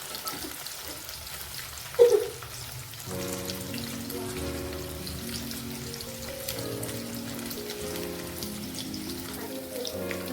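Paneer cubes sizzle and crackle in hot oil for palak paneer, a steady close bubbling patter with a sharp pop near the start, under soft background music.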